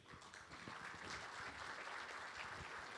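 Faint applause from an audience at an evening cultural event in Țara Bârsei spreads evenly, a soft, continuous patter of many hands with no voices over it.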